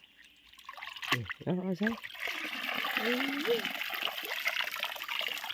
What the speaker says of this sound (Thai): ยกขึ้นล้างน้ำเอาเลย